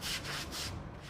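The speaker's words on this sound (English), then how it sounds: "But for the sound of sweeping" A broom sweeping up after UK floods in slow back-and-forth strokes, three soft bristly swishes against a hard surface, quiet and close on an eerily quiet street.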